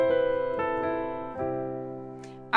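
Solo pop piano lick built around a major seventh, a few rhythmic chord strikes ringing and decaying, clean and close with no talking.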